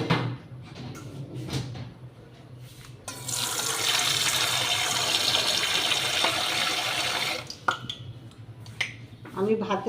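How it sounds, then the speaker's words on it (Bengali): Water pours steadily for several seconds into a pot of rice on a kitchen stove, a close hissing splash framed by clinks and handling noises, with someone speaking softly around it. "মধ্যে একটু জল দিলাম"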